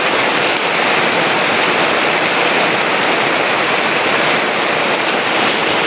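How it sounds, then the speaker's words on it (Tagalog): Heavy rain pours steadily outdoors on a farm, a dense, loud broadband hiss with no breaks, close and constant throughout. "Lakas ng ulan, oh."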